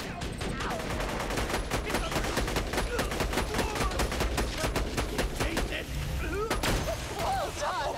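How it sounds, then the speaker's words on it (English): Rapid bursts of rifle gunfire in the shooter game Borderlands 2 during a fight with badass psychos, a dense string of loud, crackling shots repeating steadily, with a few thuds near the end. "I love that rifle, they are really good against badass psychos"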